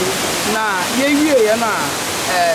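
Fuller Falls in Ghana gives a steady, broad rushing roar of falling water that continues without a break beneath a person speaking.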